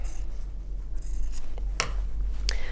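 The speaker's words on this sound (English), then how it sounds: "I'm going to cut a fairly big block." Scissors cut through a large piece of pink fabric, a few soft crisp snips and a scraping rasp standing out against quiet background hum.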